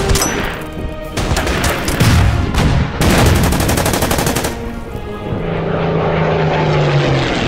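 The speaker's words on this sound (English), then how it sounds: "damn airplane." Aircraft engine drone from the WW2 strategy game Order of Battle mixed with bursts of rapid gunfire, loud and dense, easing into a steadier propeller hum near the end with no talking.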